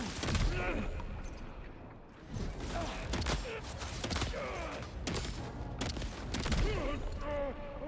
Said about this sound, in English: How many shotgun shots do you take?